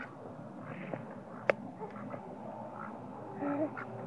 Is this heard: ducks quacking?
yes